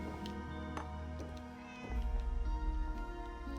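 A cat meowing in the game Fallout 76, several drawn-out calls over a steady background hum and music-like tones.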